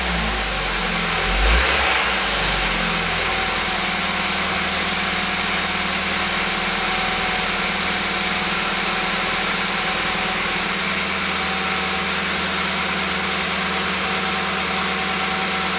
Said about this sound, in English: If I will start the car